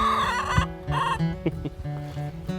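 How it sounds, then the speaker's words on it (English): Hens in a hen house cluck and squawk close by in quick repeated calls, with a rooster-like crowing note and several birds overlapping. "There's the chickens there. Got the hen den there."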